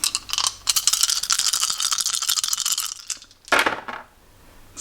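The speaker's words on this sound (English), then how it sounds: "And then when you roll them, these ones don't bounce around as much" Warcry Bringers of Death plastic dice rolled onto a hard surface, giving a dense clattering rattle for about three seconds, then a brief second clatter, close and fairly loud with no talking.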